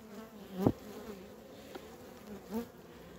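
Honeybees buzz softly around the frames of an opened beehive in September, a quiet steady hum with a few louder passes of single bees close by, no talking.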